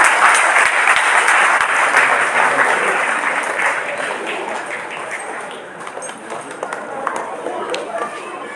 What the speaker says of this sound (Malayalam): എല്ലാവരും ഒന്ന് കൈയടിക്കണം, പ്രോത്സാഹിപ്പിക്കണം.